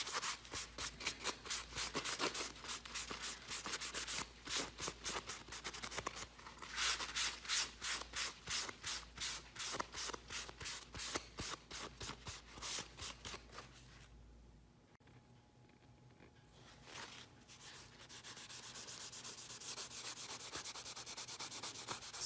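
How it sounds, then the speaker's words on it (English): Rapid back-and-forth rubbing with clear wax lifts dark wax from painted plaster, a brisk scratchy swishing in quick strokes that pauses midway, then resumes softer and more continuous. "So I'm just erasing a little bit of the dark wax so that you guys can still, see the plaster."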